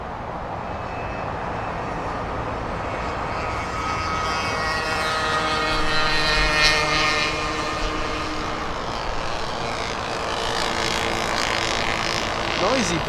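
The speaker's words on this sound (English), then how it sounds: "It's Air Tahiti Nui, speeding, getting a move on, leaving via 24 left." Air Tahiti Nui airliner roars down runway 24 left at Los Angeles International Airport on takeoff, a steady broad jet rumble building slightly in the middle, heard from a distance while someone talks over it.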